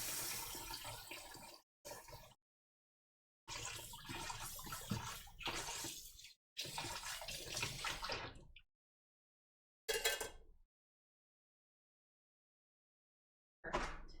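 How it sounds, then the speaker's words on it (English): A kitchen tap runs while a whisk is rinsed, the water rushing in several loud bursts broken by abrupt silences. "wash the whisk too"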